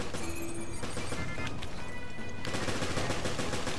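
Rapid bursts of gunfire in the Resident Evil Revelations video game crackle densely and loudly throughout, with sharp repeated shots layered over clattering in-game effects.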